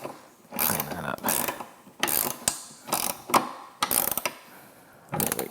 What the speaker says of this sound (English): we're going to take a size 13 wrench